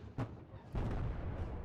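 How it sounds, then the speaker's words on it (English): Artillery shells land in a WARNO battle, two dull booms about half a second apart, the second rolling into a longer rumble that fills the rest of the moment at moderate distance. "The artillery is not hitting."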